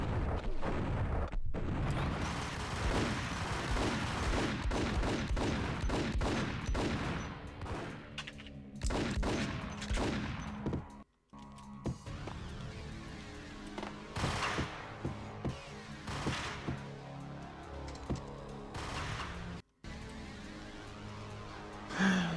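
Rapid, dense gunfire from the Max Payne shooter game, bursts of shots crackling nearly without pause over about twenty seconds, loud and close, with only a couple of brief gaps and a final sharp report.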